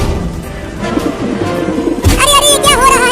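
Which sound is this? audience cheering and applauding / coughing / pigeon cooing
pigeon cooing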